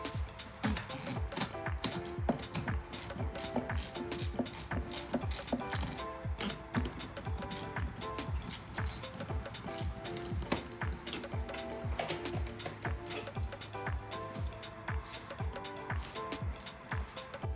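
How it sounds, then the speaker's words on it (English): A ratchet tightens the bolts on an AFE Momentum GT cold air intake fitted to a 2011-2021 Dodge Charger with the 6.4L Hemi, making rapid, steady clicking that runs loud and close throughout with no pauses. "Now all I have to do is tighten up the bolts, and we're ready to give it a try."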